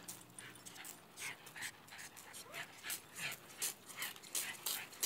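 A ranch dog pants in quick rhythmic bursts close by, with faint whimpers mixed in over a quiet background.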